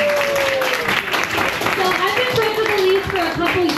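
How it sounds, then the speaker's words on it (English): An audience at an anniversary commemoration gives a steady round of applause for a speaker, with voices and cheering mixed in over the sustained clapping. "one more round of applause for Elise"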